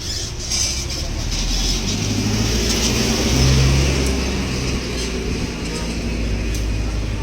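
A car on a residential street gives a steady engine drone that swells to a peak midway as it passes and then eases off, with voices faintly in the background.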